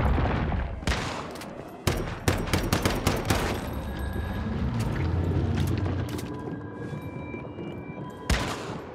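Rapid bursts of automatic gunfire in the Once Human video game, aimed at a walking house, crack out in irregular volleys with short gaps between them and a final burst near the end, over a dense game soundscape.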